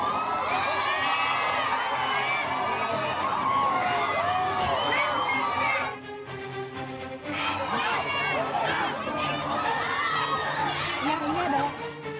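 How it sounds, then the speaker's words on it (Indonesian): Angry residents jeer and shout as a suspect in the murder of a 9-year-old boy is led out at the crime scene in Kampung Ciketing Udik. The crowd noise is loud and dense, with a brief dip partway through, and voices mix through the jeering. "Sorakan warga yang gusar mengiringi keluarnya DS tersangka pembunuh GH"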